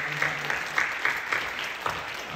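Congregation at Incheon Full Gospel Geomdan Namu Church applauding during a worship service, a steady wash of many hands clapping at moderate volume with faint voices mixed in.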